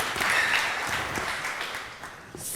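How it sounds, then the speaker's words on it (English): Audience clapping at a business conference on Finnish-U.S. economic relations, a dense, even patter of many hands that fades slightly before a brief louder burst at the end. "Another warm round of applause."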